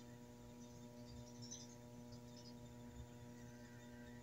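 A steady low motor hum comes from an LG 7.5 kg automatic washing machine during its spin attempt, with a faint buzzing drone and no other sounds.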